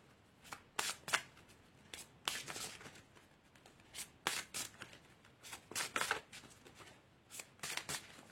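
Tarot cards being shuffled by hand, a close series of crisp riffling bursts in an irregular rhythm with short pauses between them.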